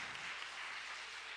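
An audience applauds at a Tamil pattimandram debate stage event, a short steady burst of dense clapping, fairly distant and even in loudness.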